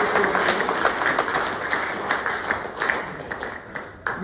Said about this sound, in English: Clap, yes.